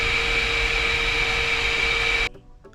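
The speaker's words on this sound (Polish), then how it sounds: "I patrzcie, ładnie wyciąga wodę." A Pretty Care PC808 washing vacuum cleaner sucks water out of a sofa being washed, giving a loud, steady whooshing roar with a high whine that cuts off abruptly near the end, leaving quiet room sound.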